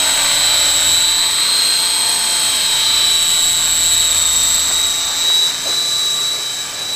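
A radio-controlled helicopter fitted with a dynamic stabilizer hovers nearby, its steady high-pitched whine and rotor hum holding loud and unbroken before dipping slightly near the end.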